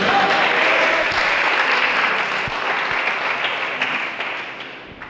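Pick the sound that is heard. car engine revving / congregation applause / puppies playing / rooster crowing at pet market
congregation applause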